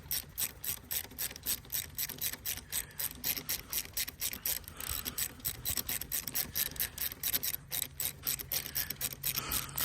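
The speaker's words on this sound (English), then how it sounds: "Alright, got the ratchet out. Now, stick it on there. Get these out." A hand ratchet loosens bolts on the transmission of a 1971 Ford F100, clicking in steady rapid strokes for the whole stretch with brief pauses between sweeps, close and alone.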